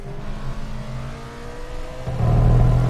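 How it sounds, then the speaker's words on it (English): The V8 of a 1967-style Alfa Romeo 33 Stradale in Assetto Corsa at Monza climbs in pitch while accelerating out of a corner, rising to a loud, close scream near the end. "That V8 screaming as we accelerate out of these corners"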